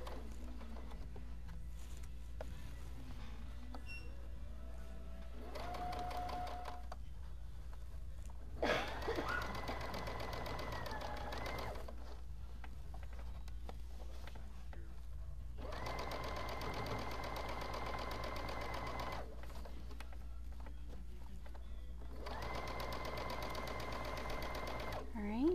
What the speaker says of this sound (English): this is going to let me just zip right around, sewing this casing closed